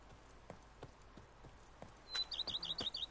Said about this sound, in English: Come on, Roach. I love this horse.